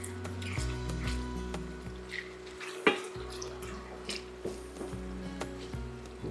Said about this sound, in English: As long as that oil keeps bubbling,